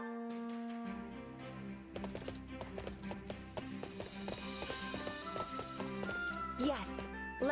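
Horses trot in Fire Emblem Warriors: Three Hopes, repeated hoof clops under sustained game music, with a whinny-like sweep toward the end.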